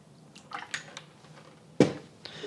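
A tablespoon of water is poured into a pork marinade made with Shaoxing wine in a home kitchen: a faint trickle, then one short, louder splash near the end, with no talk over it.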